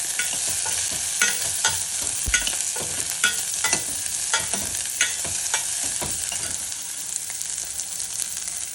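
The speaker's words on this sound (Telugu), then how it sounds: "బీన్స్, క్యారెట్, ఆనియన్, అల్లము, వెల్లుల్లి వేసి కొద్దిగా కలపాలి." Beans, carrot, onion, ginger and garlic are stirred in a sizzling pan for vegetable soup. A spatula taps and scrapes in a regular rhythm over a continuous close frying hiss.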